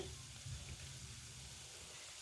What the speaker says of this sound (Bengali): ফ্রাই হচ্ছে